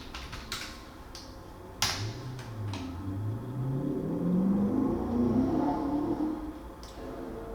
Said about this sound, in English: I don't know if you can hear that car in the background.